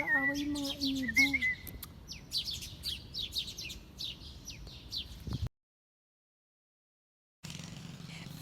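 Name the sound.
birds squabbling and chirping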